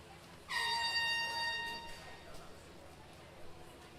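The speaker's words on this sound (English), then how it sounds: "Unsure where that air horn came from" A single loud, sustained air horn blast blares for over a second against a murmur of background noise at a boys' high school swim and dive meet, then fades.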